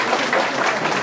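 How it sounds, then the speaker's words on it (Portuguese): An audience at a meeting with a former São Paulo mayor bursts into a short round of applause, loud, dense and continuous for about a second with no voices. "uma salva de palmas para o Valdir."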